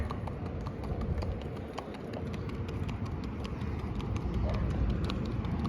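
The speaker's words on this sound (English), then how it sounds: "It's a beautiful horse right there." Rapid clip-clopping horse hoof beats tap along steadily over a loud rumbling background, the rhythm quick and continuous throughout.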